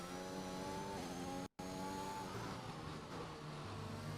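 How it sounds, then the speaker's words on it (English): An F1 2021 race car engine whines at high pitch, cuts out for a moment, then drops to lower revs in a downshift, with a rougher, grumbling tone afterward. "Downshift, takes it easy here."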